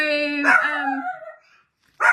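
A chihuahua-mix dog gives a close, high-pitched bark that tails into a whine, then falls silent before another short yip at the end.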